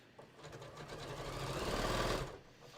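An electric sewing machine stitches a short-stitch quarter-inch seam on a beach tote, a rapid, close mechanical whir that ramps up, holds for about two seconds, then stops.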